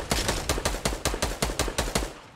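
Rapid automatic gunfire in Fortnite during a squad battle, about a dozen loud, evenly spaced shots in a quick steady burst with no talking.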